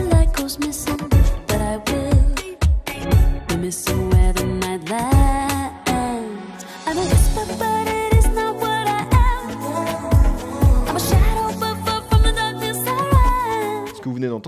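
Music co-composed by a musician and artificial intelligence plays alone, with a steady beat of punchy low drum hits under layered melodic and harmonic parts that fill out and grow denser in the second half.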